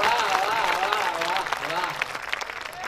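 Applause from an audience at a Hindi poetry gathering (kavi sammelan), a steady dense patter of clapping mixed with a raised voice speaking over it, moderately close.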